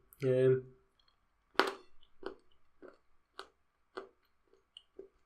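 Crisp crunching bites and chews of M&S dark chocolate with raspberry follow a brief spoken word, several sharp snaps spaced irregularly, close and fairly quiet.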